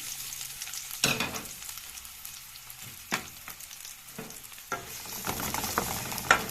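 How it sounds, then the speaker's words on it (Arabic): Onions sauté in hot oil in a pan, the start of a liver and gizzard dish: a quiet bed of sizzle broken by several sharp stirring knocks and crackles, with no talk. "هنشوح البصله ديت، نخليها تدبل بس"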